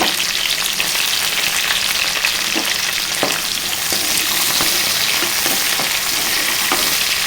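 Onion pieces frying in a pan for a chana dal curry make a steady, loud sizzle throughout, with occasional soft scrapes of stirring and no voices.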